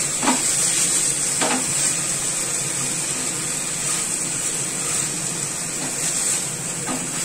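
Paneer fries in a hot pan for a Chinese-style dish, a steady sizzling hiss with faint scraping stirs and soft utensil taps throughout, no voices.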